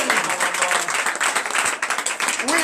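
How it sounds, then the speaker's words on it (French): A church congregation at a night deliverance and prophecy service applauds for Jesus, with loud, dense clapping in irregular waves and some voices mixed in. "Donnez l'acclamation à Jésus."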